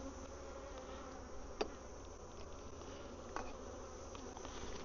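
Bees from a strong hive in a bee yard keep up a steady, dense buzzing throughout, with a couple of brief louder knocks standing out from the continuous drone.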